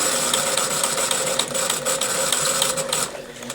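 A sewing machine running steadily while stitching an understitch on fabric, a continuous close mechanical whir with rapid needle clatter that slows and softens at the end.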